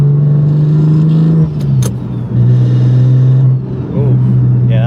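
BMW F80 M3 driving through gears with an aftermarket short shifter installed, steady loud engine drone dipping briefly at each shift, with faint rattles and clicks from the shifter mixed in.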